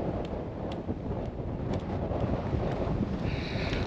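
Strong wind gusting across a microphone on a canal towpath, a heavy continuous low rumble and buffeting with no breaks, loud and close.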